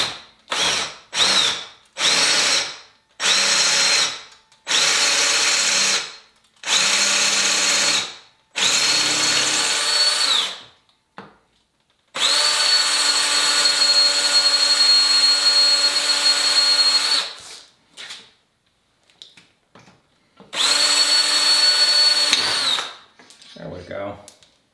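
A power drill with a 6.5 mm bit drills out an axle pivot, sounding up close as a series of whirring bursts, first short, quick runs and then longer sustained spins separated by pauses.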